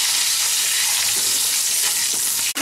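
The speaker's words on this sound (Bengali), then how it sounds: "দিয়ে আলুটা আমি ভেজে নেব" Potatoes seasoned with salt and turmeric sizzle in hot oil in a home kitchen, a dense, steady crackling hiss throughout that ends with a single sharp knock.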